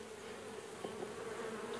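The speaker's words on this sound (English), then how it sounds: "Oh, listen to them just humming away." A dense, steady hum of many honeybees in an open hive at close range, continuous and even.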